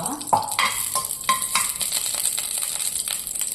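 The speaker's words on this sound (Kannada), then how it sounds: "ಈಗ ಇದು ಬಾಣಲೆ ಬಿಸಿಯಾಗಿದೆ ಒಂದು ಸ್ಪೂನ್ ಅಷ್ಟು ಸಾಕು ತುಪ್ಪ" A spoonful of ghee sizzles in a hot pan, a bright steady fizz close up, broken by a few clinks and scrapes of a spoon stirring against the metal.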